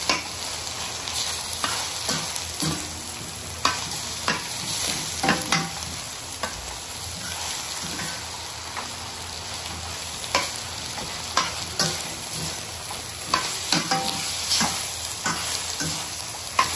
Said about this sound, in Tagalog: ay haluin muna natin.